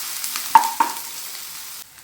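Onions browning in hot oil for a bhetki fish cutlet mixture give a steady, close sizzle, broken by two sharp knocks of a stirring utensil, before the sizzle drops away near the end.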